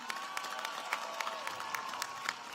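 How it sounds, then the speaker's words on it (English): Applause and cheering from a crowd at a spring undergraduate commencement, a steady wash of clapping with scattered whoops and one sustained whistle-like tone on top. "Please give Mr. Williams a round of applause."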